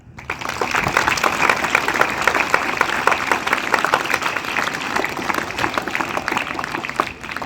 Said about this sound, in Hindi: तो एक बार अपने लिए जोरदार ताली।